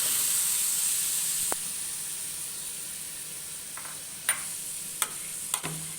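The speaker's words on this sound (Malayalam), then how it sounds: "നമുക്കിതൊന്ന് നല്ലോണം ഈ നെയ്യും പിന്നെ പൈനാപ്പിളും ഒക്കെ കൂടി ഒന്നൊന്ന് വാട്ടിയെടുക്കണം" Small chopped pineapple pieces sautéing in ghee in a pan, a soft steady hiss with a few sharp stirring clicks near the end, quiet and close.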